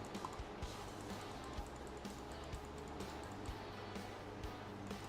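Rapid computer mouse clicks from someone playing Minecraft on an EarthMC server, a series of light, sharp ticks over steady background game noise.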